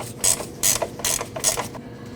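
Ratchet wrench loosening a 15mm nut on the lower control arm link of a 2014-2023 Jeep Cherokee: four bursts of fast metallic clicking, close and fairly loud, separated by short pauses, with no talking.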